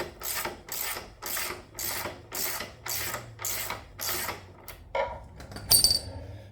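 The front axle is pulled out of the wheel of a 2023 Triumph Tiger 1200 Rally Explorer motorcycle, giving eight evenly spaced ratcheting scrapes close by, then a few lighter metallic clicks and a faint squeak at the end.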